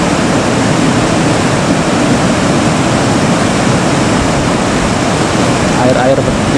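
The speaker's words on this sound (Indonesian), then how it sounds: "Air-air yang keluar cukup deras. Keluar dari sela-sela di bagian bawah." Water pours forcefully through gaps at the base of a collapsed dam embankment at the Serandakan dam, a loud, steady roar of rushing flow heard close up throughout with no pause.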